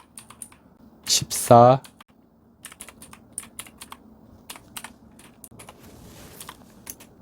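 Quick, light keypresses on a computer keyboard while entering RAM overclock settings in a PC BIOS, scattered clicks running through the clip, with one short spoken phrase near the start.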